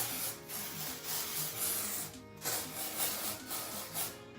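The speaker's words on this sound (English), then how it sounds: "I'm going to hold it 30 centimeters away from my hair, and I'm going to spray it." A can of Batiste aerosol dry shampoo hisses onto hair in several pulsed bursts, close by, with rustling in between and a brief pause midway.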